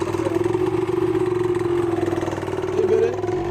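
A motorcycle engine runs steadily during a riding lesson, with a constant mid-range hum and a slight rise in revs near the end.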